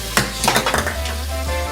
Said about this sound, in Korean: 엄마가 남기고 간 설거지까지 해치웁니다.